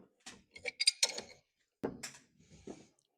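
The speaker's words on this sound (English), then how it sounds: "I'm just going to use this pipe wrench" Pipe wrench turning a tie rod end on a 1992–95 Honda Civic during a manual steering conversion: close, creaking mechanical ratchets and metallic clicks in two short clusters separated by a brief pause, with no talking.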